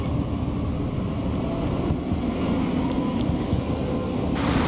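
An HLB class 1440 regional train passing in southern Hesse, heard as a steady, loud, broadband rumble and rush of wheels that holds constant throughout, with no voices.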